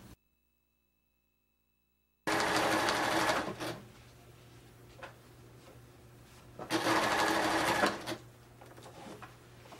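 A sewing machine runs a long basting stitch to attach cording to a slipcover arm front, whirring close and loud in two bursts after a silent start, with a softer stretch between them.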